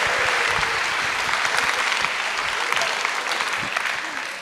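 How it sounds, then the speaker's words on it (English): Warm applause from the audience at the launch of Australia's International Decade of Indigenous Languages, dense continuous clapping at a steady level that eases slightly toward the end, with faint voices underneath. "Give him a big clap"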